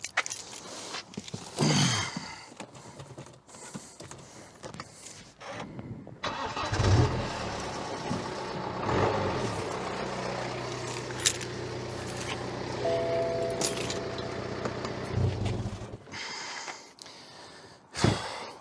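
Keys jangle and a car's engine cranks and catches, settling into a mid-pitched idle with further starting attempts and handling noises; close and fairly loud, with no speech.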